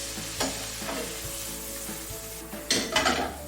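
Shrimp for scampi sizzle in a pan with a soft steady fry, broken by a few sharp scrapes and clinks of a utensil stirring against the metal.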